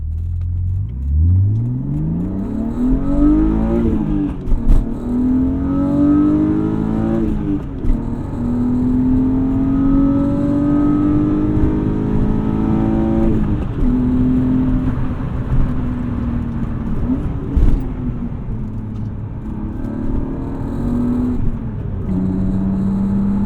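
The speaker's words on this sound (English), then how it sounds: "Intake is much louder with the cover removed." A BMW E36 M3 engine revs up from low to a loud, breathy intake roar with the intake cover removed, then holds a strong steady drone as it pulls, heard from inside the cabin.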